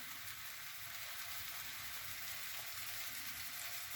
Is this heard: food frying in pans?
yes